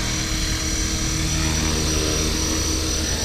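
An HK 450 RC helicopter runs close by with a loud, steady rotor whine and buzzing motor drone that stays level throughout, with no talk.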